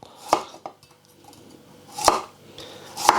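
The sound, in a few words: slicing a carrot finely with a knife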